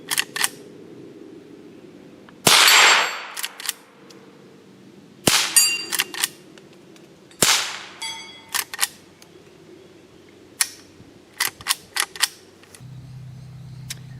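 A Henry H001 .22 LR lever action rifle fires several sharp, loud cracks spaced seconds apart, with metallic clicks and clacks of the lever action cycling between shots.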